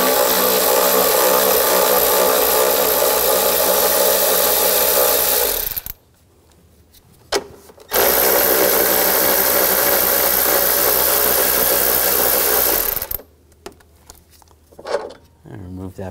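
A power tool with a 10 millimeter socket spins two nuts off on a 2013-2019 Ford Escape 2.0L, two long loud whirring runs separated by a brief pause, then handling noises.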